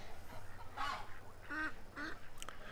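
Ducks calling in a marsh of bulrushes beside highway runoff water, several quiet honking quacks in short bursts, somewhat distant, over faint background noise.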